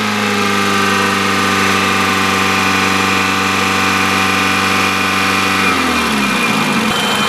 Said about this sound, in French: Alors là il me dit augmenter les tours minutes à 2500 tours minutes, rester 5 secondes